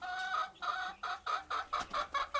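Desi village chickens scratching in paddy husk cluck nearby in quick, repeated bursts, a rhythmic series of short calls with brief pauses between them.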